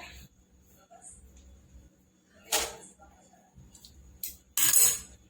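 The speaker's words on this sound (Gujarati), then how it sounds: "હવે આપણે ડીશ મૂકી દઈશું અંદર" A metal plate of dhokla batter goes into a steamer pot of hot water, giving two close, sharp metallic clanks over a quiet background with faint murmurs.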